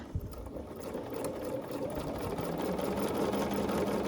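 A sewing machine stitches a knit faux placket with the presser foot lowered, a continuous close whirring hum that holds steady and grows slightly louder over a few seconds, with no talking.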